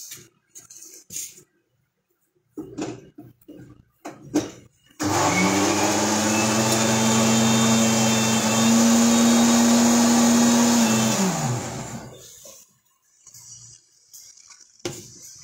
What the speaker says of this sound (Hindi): अभी हमारा दूसरा बैच भी जो है ग्राइंड हो चुका है